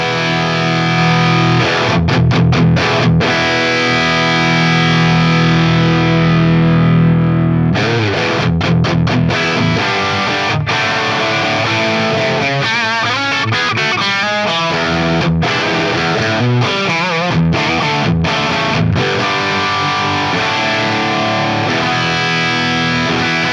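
Distorted electric guitar played through a modified AX8 amp model with the control set around 3 or 4, heard as dense, driven chords and riffs with short breaks, loud and close, with no talking.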